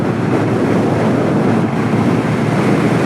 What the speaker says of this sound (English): Always fighting the wind going and coming back.